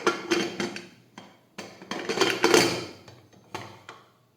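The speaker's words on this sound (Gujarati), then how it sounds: "હવે આપણે કુકરનું ઢાંકણ છે તે બંધ કરી દઈશું।" A pressure cooker lid being shut over boiling chana and urad dal gives a run of close metallic clanks and clicks in a few uneven bursts, with short pauses between them and no talking.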